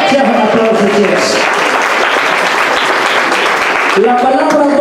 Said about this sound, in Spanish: Sea un aplauso a Dios.